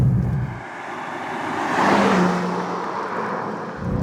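A 2023 BMW M2 pulls away on the road, its engine note rising as it gains speed and sweeping past before fading, with the loudest part in the middle.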